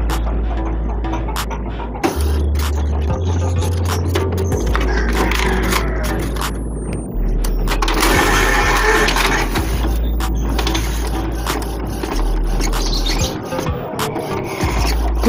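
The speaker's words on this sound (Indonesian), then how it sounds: "driver sudah terpasang dengan baik dan printer sudah mengeprint" An Epson L120 inkjet printer runs a nozzle check print, its carriage and feed gears ratcheting and clicking in irregular mechanical bursts with low motor hum, close and fairly loud, no speech.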